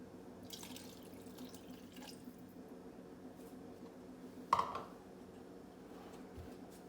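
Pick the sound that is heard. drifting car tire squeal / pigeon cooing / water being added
water being added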